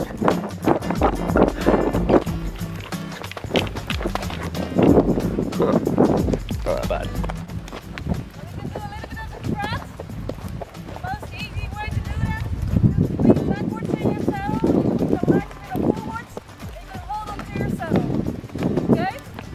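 Horse hooves clip-clopping along at a walk on a Bonaire trail under steady talking, with wind buffeting the microphone.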